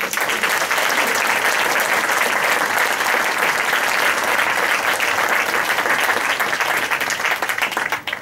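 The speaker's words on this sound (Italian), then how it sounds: "chiedo cortesemente al pubblico in sala di dedicare un meritorio applauso" An audience in a hall at an event on legality applauds warmly, with sustained, dense clapping that stays loud and even before thinning slightly at the end.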